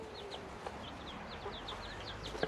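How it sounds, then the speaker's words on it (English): A hen with her chicks clucks softly, with high cheeping from the chicks repeating throughout against a quiet outdoor background in dry drought conditions. "See Mrs. Chicken and her babies over there?"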